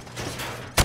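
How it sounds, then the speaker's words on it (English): Rifle fired from the hip at targets in Call of Duty Modern Warfare Remastered, a couple of muffled reports followed by one loud, sharp close shot at the end. "Shoot at the targets while firing from the hip."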